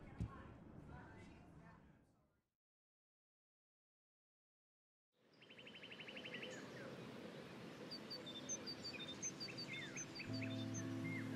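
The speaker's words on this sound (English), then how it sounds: "The birds are flocking around Samuel." Birds chirp and tweet in the early-morning ambience of the video game Life Is Strange, bright and continuous, following a short silent gap after a brief voice.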